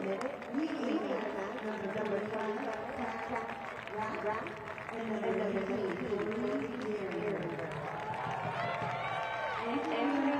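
Stadium crowd applauding a soccer player leaving the field as a substitute in a Spokane Zephyr FC versus Sporting JAX match, a steady broad wash of clapping and cheering throughout with a commentator talking over it.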